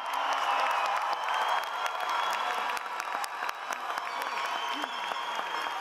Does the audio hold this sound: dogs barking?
no